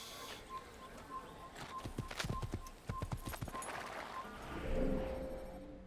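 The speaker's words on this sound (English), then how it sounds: "Get back on the horse." Horse hooves clip-clop in an Assassin's Creed video game, a quick run of close, distinct hoofbeats in the middle with faint birdsong and ambient outdoor sound around them.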